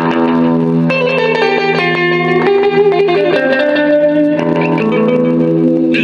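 An electric guitar played through an Orange Crush amp with a 175 millisecond delay. Sustained chords and notes ring out, each trailed by quick echo repeats that fade away, with no voices.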